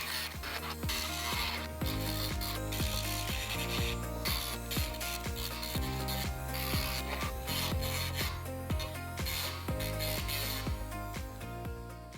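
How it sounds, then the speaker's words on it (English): A cut plastic helmet mount edge is ground down with rapid repeated rasping strokes, a steady scratchy rubbing rhythm up close, loud and continuous with no voices. "we're just gonna wanna grind down the edges a little bit so they're not too sharp"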